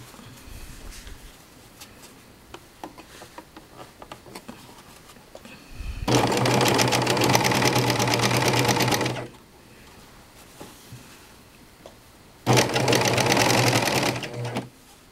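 A serger sewing machine stitches cording onto a pillow edge in two loud, steady bursts of rapid mechanical whirring, the first about three seconds long and the second shorter, separated by a quiet pause.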